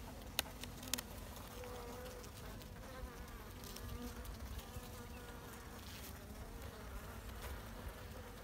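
Honeybees buzz steadily over a hive frame in a queen-rearing colony, a dense continuous hum of many insects close by, with a couple of faint clicks early on and no talk.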